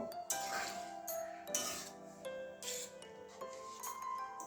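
Mung dal with spinach and papaya stirred in a pot, the spoon giving light clinks and scrapes against the metal in an irregular rhythm, close and moderately quiet, with no talking.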